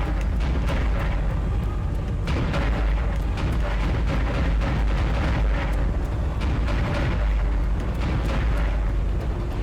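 Cannon fire in a video game about fending off an alien invasion, a dense, continuous barrage of loud booming blasts that roll into one another without pause and with no talk over them.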